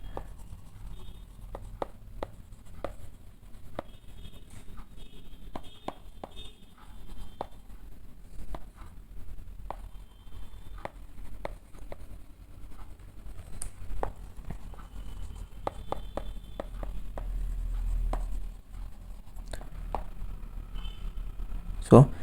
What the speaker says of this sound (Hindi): तो ये पॉइंट मैं लिख देता हूँ